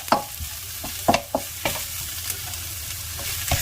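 Garlic and onion sauté together in a hot pan, a steady close sizzle broken by several scraping stirs of the utensil, with no talking.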